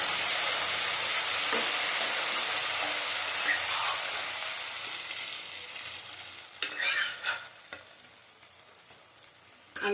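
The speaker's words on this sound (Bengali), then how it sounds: "আলু তো কড়াইয়ের মধ্যেই আছে আমার, আলুটা দিয়ে দেবো।" Potatoes and fish fry and get stirred in a wok, a steady close sizzle that slowly fades, followed by a few scraping stirs near the end.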